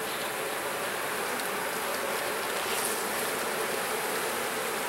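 Honey bees buzzing around an open beehive, a dense continuous drone from many insects close by, steady and fairly loud for the whole stretch with no talk.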